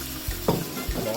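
Pork and potatoes stirred in a pan with sweet soy sauce, a few soft scraping strokes over a light sizzle, close and brief.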